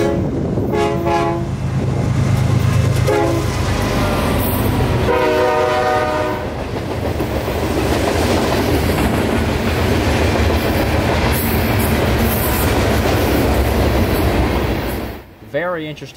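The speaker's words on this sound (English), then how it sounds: "2 BNSF locomotives assigned to pull this train from Waycross down to Winston." Freight train hauled by two BNSF locomotives, one a GE GEVO in heritage paint, rolls past loudly with repeated horn blasts, heavy rumble and clattering wheels throughout, with some voice in the background.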